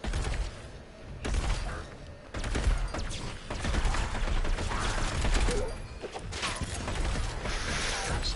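Dense automatic SMG fire in the alien-shooter game Alienation, sustained bursts with mechanical clatter layered over a busy game soundscape, loud and continuous with no talking.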